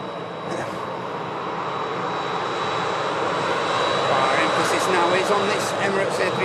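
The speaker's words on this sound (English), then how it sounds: "It's an EasyJet for Geneva there," An EasyJet airliner taxis out for a flight to Geneva, its jet engines a steady broad roar that swells slightly, with a thin high whine over it and someone talking across the noise.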